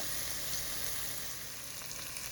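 Diced potatoes for hash browns frying in oil with salt and pepper, a steady dense sizzle holding at an even level from start to finish, close and unbroken.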